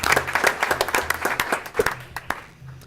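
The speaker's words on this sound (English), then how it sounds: "Looks like you got a good round of applause, Kelly." Applause from a small group at a school board meeting, scattered individual claps over a low hum, fading out near the end.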